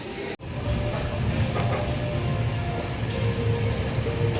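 The Kannur–Yeshwanthpur express train pulling out of Coimbatore, a steady rumble of rolling wheels and carriage noise heard from on board, continuous and fairly loud after a brief dropout at the start.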